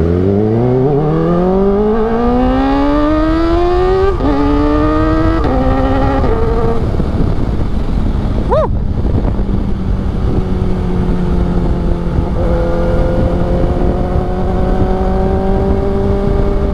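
A motorcycle engine revs up through rising harmonic sweeps with several quick throttle blips, then settles into a steady crisp exhaust drone while riding in city traffic at night, loud and close with no talking.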